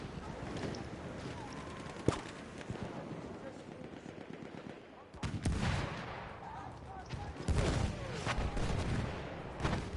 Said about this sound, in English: We even got some mortar fire here.